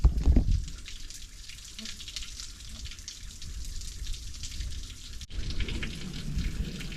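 A modest mountain stream on the Catskill Mountains' Escarpment Trail flows with a continuous soft trickling wash, fairly close and even, and a brief louder splash at the start.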